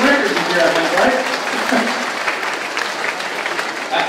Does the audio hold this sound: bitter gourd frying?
no